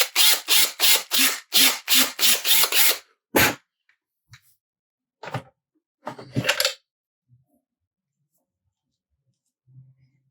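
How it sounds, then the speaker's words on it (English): A short run of rapid, rhythmic grinding bursts from a hand drill boring into wood, followed by a few scattered clicks and scrapes, then near silence. "Just drill this out a little bit."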